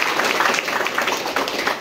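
An indoor audience applauding, a dense, close burst of many hands clapping evenly throughout the short span.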